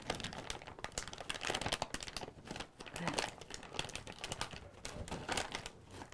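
Crinkly plastic snack bag folded back over itself to seal it, with dense rustling and crumpling throughout, fairly loud and close, and people talking briefly alongside.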